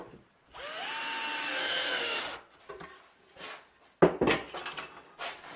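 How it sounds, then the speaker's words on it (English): Wood being trimmed against a spinning saw blade gives a sustained high whine lasting about two seconds, then short, quieter cutting bursts and clatter. "I'll often just push it against the stationary blade, and then when the blade spins, it cuts off a tiny bit"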